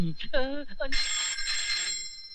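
A telephone bell rings loudly and steadily in a film scene, sounding over a voice at first and then continuing on its own.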